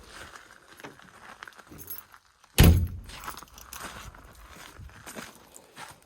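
Keys jangle and clink while cupboards are unlocked inside a Sprinter camper van, with a sharp knock or thunk midway and faint rustling before and after, close and moderately quiet.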